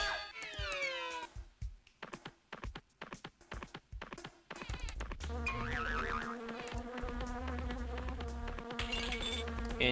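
A bee buzzes in the AIO 3D CD-ROM game, a wavering insect drone heard amid other game effects, with a meow-like sound at the start and layered tonal game sounds later.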